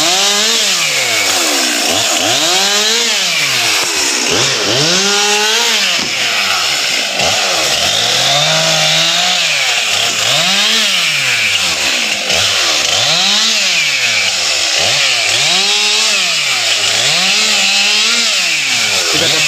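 Firefighters cut through a fallen tree with a chainsaw, the loud close engine rising and falling in repeated bursts as the blade bites into the wood, with no talk.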